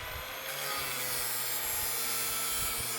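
A power cutting tool works through a sealed unit refrigeration compressor with copper lines, a steady harsh grinding rasp held close and loud for the whole stretch, with no talking.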